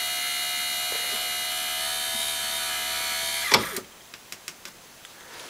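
Electric motor of an automotive robotic seat adjuster running with a steady high whine and buzz, then cutting off abruptly, followed by a few small clicks and taps.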